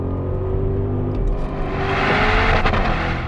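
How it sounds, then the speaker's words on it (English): A 2025 Audi RS Q8 with a twin-turbo V8 roars loudly and steadily close by, its deep rumbling note rising under acceleration with a harder, rasping surge toward the end. "That V8 is outstanding. Just sounds so brutish, so raw."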